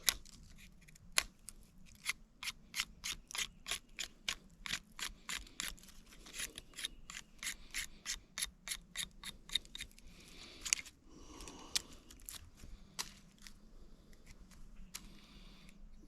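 A razor-sharp old knife shaves the end of a wet twig to a point outdoors, giving a steady run of crisp, rapid scraping strokes close by, briefly pausing before a few final cuts.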